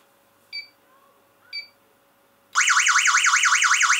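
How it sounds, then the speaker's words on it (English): A wireless GSM home security alarm triggered at the front door: two short electronic beeps, a pause, then a loud, piercing warbling siren that rises and falls rapidly and continuously. "I want to make sure that it's actually going to phone me when the alarm's going off."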